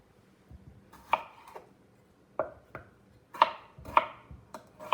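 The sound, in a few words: chopping fresh red potatoes with a knife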